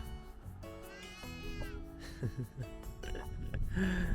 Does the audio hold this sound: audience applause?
no